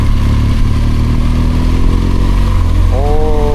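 BMW R1200GSA motorcycle engine droning steadily while riding on Bukak Skyway, a loud continuous low rumble with wind noise and a rising engine tone near the end.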